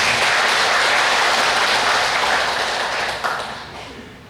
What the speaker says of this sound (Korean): 우리 한번 박수 치면서